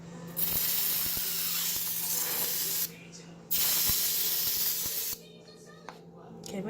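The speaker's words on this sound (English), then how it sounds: "It's just spraying." A spray bottle mists water onto slime in two or three sustained hissing bursts with short gaps between them, close and fairly quiet.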